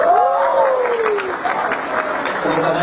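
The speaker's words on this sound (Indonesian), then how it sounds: "Tepuk tangan yang seru." An audience at a regional folk song parade applauds in a lively, continuous round of clapping, with a voice ringing out over it near the start.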